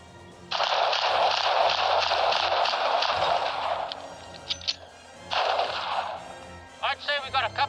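A group fires 1911 pistols in combat drills: a long dense burst of cracking shots, a short lull, then another burst, followed by a few sharp isolated reports.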